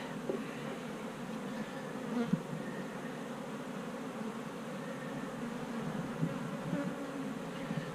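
Honeybees buzz in a steady, moderately quiet drone around a beehive early in the season, with a dense continuous hum and a few louder passes close by, and no talking.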